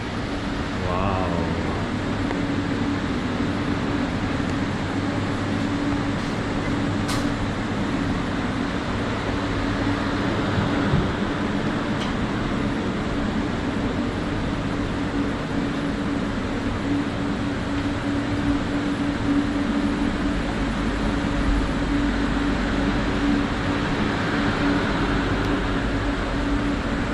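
Steady rumbling hum inside a two-car Jakarta LRT light rail train while riding, with continuous low rail and ventilation drone and faint voices speaking now and then.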